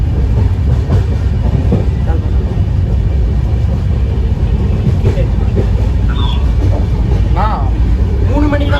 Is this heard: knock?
no